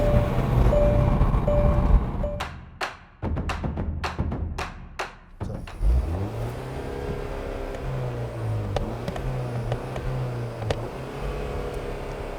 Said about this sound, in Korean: 이 상태에서 가속 페달만 밟아 보겠습니다